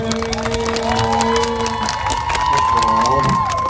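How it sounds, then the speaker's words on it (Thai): An audience at a likay folk theatre performance cheers, shouts and applauds loudly and steadily throughout, with sustained musical tones running underneath the crowd noise. "ขอเพียงรางวัลปรบมือ"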